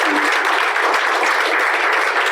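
Dense, steady applause fills a hall at a Tamil film-industry event for director Vasanth, many hands clapping together at a loud, even level throughout without pause.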